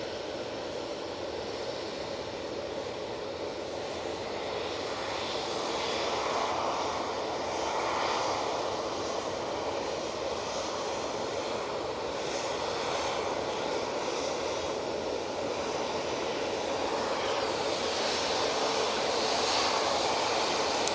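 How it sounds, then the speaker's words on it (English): Engines of a Virgin Atlantic Airbus A350 airliner at Manchester Airport produce a steady, broad roar that swells slightly over about twenty seconds, heard from a distance with no voices. "Let's just go on the beautiful Virgin Atlantic A350."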